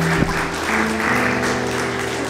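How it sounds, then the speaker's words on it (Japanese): Audience clapping at a senior appreciation event, a sustained wash of applause with low steady tones humming beneath it. "ぜひ皆さん大きな拍手でお願いします"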